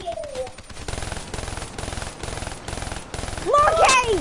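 Automatic gunfire rattles in rapid bursts through a Call of Duty match, repeating steadily for several seconds before a louder, brighter effect swells at the end, with players' voices faintly underneath.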